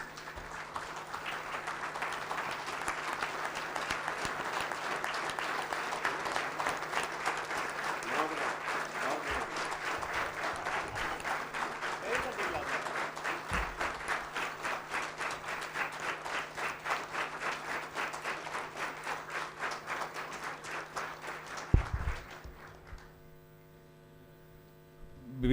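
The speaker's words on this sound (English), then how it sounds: "Don't they deserve a standing applause," An event audience gives sustained applause for the organizers, dense clapping from a large crowd holding steady for about twenty seconds over a mains hum, then stopping abruptly.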